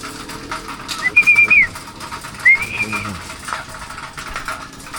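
Two bright rising-and-falling whistle calls come from a hand-held whistle used as a trapping cue. Each lasts about half a second, sounds close and loud, and rises over faint background voices and ambient noise.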